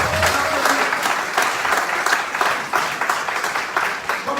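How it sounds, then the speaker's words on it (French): Dense, loud audience applause at a political speech in French, a continuous roar of clapping from a crowd with a faint murmur of voices underneath. "On applaudit"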